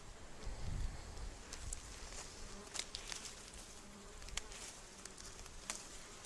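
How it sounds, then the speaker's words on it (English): Flies drone and buzz around a farm garden, a steady insect hum with passing buzzes coming near and drifting off over faint outdoor rustle. Nobody speaks. "They just fly around, buzz around, which is maybe annoying"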